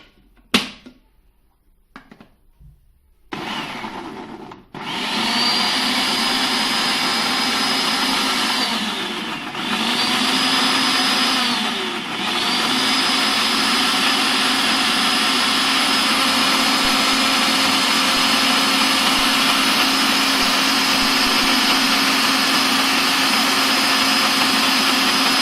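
A blender runs steadily for about twenty seconds, mixing half a cup of milk as the base for a garlic shawarma sauce. The loud, even whir dips briefly twice and carries on alone with no talk.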